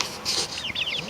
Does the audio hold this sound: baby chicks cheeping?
yes